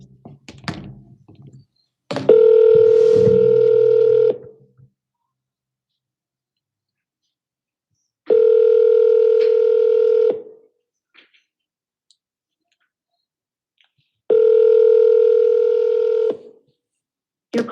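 Outgoing phone call to a home seller, three evenly spaced long ringback tones of about two seconds each separated by silence, preceded by brief keypad dialing clicks at the start.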